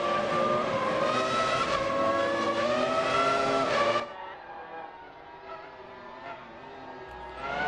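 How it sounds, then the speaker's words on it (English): Race cars passing in a night racing game: loud high engine whine with layered harmonics for several seconds, then cutting away to a fainter distant engine drone. "Cars went off in the background there."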